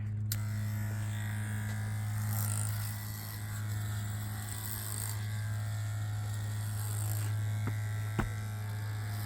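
Electric clippers buzz steadily while trimming the longest parts of an animal's coat, a constant close mains-like hum holding throughout with a brief click near the end and no talking.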